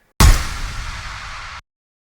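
A single impact sound for rock and metal, shaped with a transient shaper, hits with a sharp, booming attack and then holds a dense, hissy decay for over a second before cutting off abruptly into silence.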